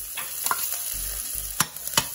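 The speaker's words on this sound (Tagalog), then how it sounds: "Pag mainit na po ang ating mantika, ilagay na po natin ang ating sibuyas." Onions sizzling steadily in hot cooking oil, a close, continuous frying hiss broken by a few sharp utensil scrapes and taps.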